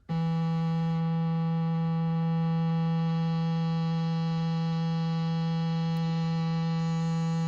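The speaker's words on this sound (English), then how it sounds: "faint hiss there that's being created by the resonance" A sustained, buzzy Sequential Prophet-6 synthesizer tone rings with strong resonant overtones from low-pass filter resonance, a faint airy hiss sitting above it throughout.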